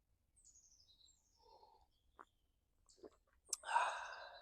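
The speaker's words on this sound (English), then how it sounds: "I just love the sound of the birds singing." Sparse birdsong in morning woods at a campsite: a few thin whistled phrases and chirps, quiet and spaced apart, then a louder burst of song near the end.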